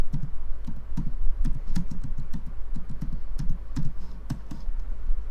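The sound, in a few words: typing on a computer keyboard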